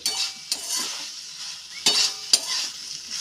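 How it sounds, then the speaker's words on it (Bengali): Soaked soybeans and spices are sautéed over low heat in a pan, with a soft sizzle broken by a few sharp scrapes and clinks of a spoon against the metal. "মশলা সয়াবিন একসাথে খুব ভালোভাবে কষিয়ে নেব"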